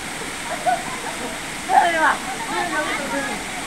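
Tagtugonan Falls, a waterfall in Barangay Gupitan, Kapalong, Davao del Norte, gives off a steady broadband rush of falling water. A voice is faintly audible over the constant roar.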